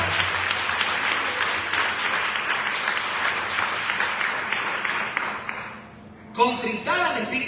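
Church congregation applauding after a sermon: steady, fairly loud clapping for about five seconds that thins and fades out, followed by someone speaking.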